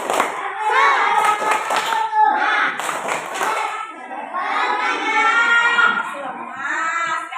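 Children perform the tepuk semangat clapping chant in a classroom lesson, a rhythmic series of group claps mixed with young voices calling out, loud and close, with bursts of cheering between the clap patterns.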